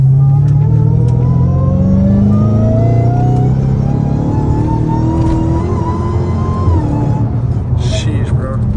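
A Dodge Hellcat Redeye with a cat-back exhaust accelerates hard in a street race, its engine climbing steadily in pitch through the gears, loud and close, with a voice talking over it.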